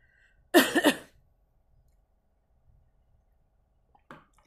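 A single short burst of coughing from someone whose tea went down the wrong way, close and fairly loud, then quiet with a faint small noise near the end.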